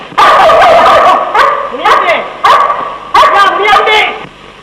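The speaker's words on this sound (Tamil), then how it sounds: "அதுதான் எங்க வீட்டு நாய் இந்த கத்து கத்தி இருக்குது." A dog barks loudly and close in a string of five or six sharp, rapid bursts with brief pauses between, an excited outburst in an old 1959 film soundtrack.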